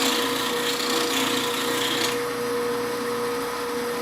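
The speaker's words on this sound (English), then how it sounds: "turn the wheel on, and go ahead and put that bevel on there" A grinding wheel putting a bevel on a tool, a steady loud abrasive hiss over a constant motor hum, the grinding tone shifting slightly partway through.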